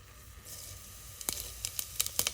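Whole spices frying in hot oil for a vegetable biryani, a steady low hiss that turns into a run of sharp crackles and pops near the end.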